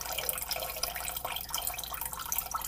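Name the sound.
water being poured into a cooking pot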